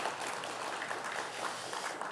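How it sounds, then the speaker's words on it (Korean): Church congregation applauding during a Sunday afternoon worship service, a steady, fairly soft wash of many hands clapping that holds evenly for a couple of seconds with no talk over it. "그런 의미에서 다시 한번 박수하겠습니다."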